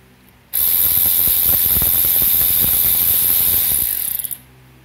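ACDelco extended 3/8 cordless ratchet removing flywheel bolts on a Yamaha YXZ, a loud, close, continuous whirring motor buzz lasting about four seconds, ending in a few quick ratcheting clicks.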